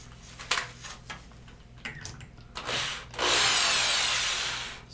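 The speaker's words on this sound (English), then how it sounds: "I think what I'm going to do first is pre-drill." A power drill pre-drills holes in wood for a skin-on-frame kayak build on a strongback, with scattered handling clatter first, then a loud sustained whir of drilling in the final seconds.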